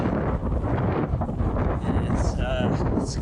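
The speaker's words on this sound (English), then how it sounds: "It's windy" Steady wind roars across an open cycling route in Masurian Poland on a cold, blustery day, a dense broadband rush buffeting the microphone throughout.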